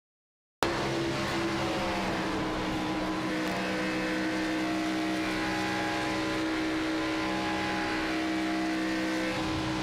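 A pack of race cars roars around the track in a stock-car racing video game, a loud, continuous engine drone that kicks in abruptly and holds steady throughout with no talk.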